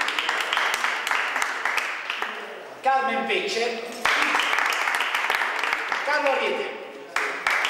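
Studio audience applause for guests on a local television football talk show, steady clapping running under a voice as he names people.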